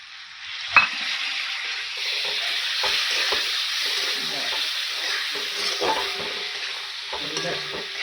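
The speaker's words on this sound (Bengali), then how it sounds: "এগুলো ভাজা হয়ে গেলে টমেটো কুচি দিয়ে দিলাম" Chopped tomato with Kashmiri chilli powder frying in a pan, a steady close sizzle with stirring scrapes throughout and a sharp clink near the start.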